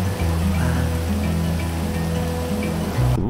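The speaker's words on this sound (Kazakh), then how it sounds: "Құйып тұр жаңбыр тегі." Heavy rain pouring down in GTA 5, a loud, steady hiss of water that continues without pause, with a low rumble beneath it and a brief change right at the end.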